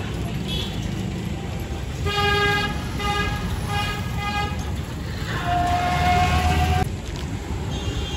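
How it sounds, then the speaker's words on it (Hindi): A new car, a Maruti WagonR, arrives and sounds its horn in a few short toots over outdoor street noise and engine rumble, with faint voices in the background. "आ गई गाड़ी।"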